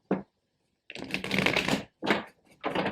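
Tarot cards shuffled by hand close up, with a short riffle, a longer burst of brisk shuffling, then two more quick bursts separated by brief pauses.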